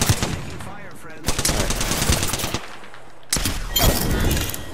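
Rapid bursts of video game gunfire crackle loud and close, broken by short pauses, with a dense battlefield din filling the gaps.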